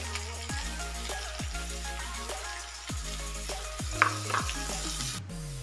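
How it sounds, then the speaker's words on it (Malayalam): Curry leaves go into hot oil with onions for a fish curry, giving a low, steady sizzle with repeated stirring strokes roughly every second and a few sharper crackles near the end. "രണ്ട് തണ്ട് കറിവേപ്പില നമുക്ക് ഇട്ട് കൊടുക്കാം"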